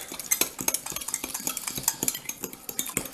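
Char siu marinade being stirred with a utensil in a bowl, a steady run of quick scraping clinks against the dish, close and fairly loud, with no talking.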